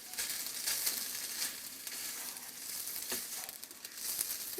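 Onion and garlic sauté in a pan with a steady crackling sizzle, constant and close, with occasional brighter pops and no voices.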